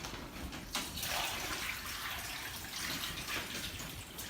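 Water pours from a bucket onto a large, very dry indoor houseplant, a steady close splashing gush that runs continuously without pause.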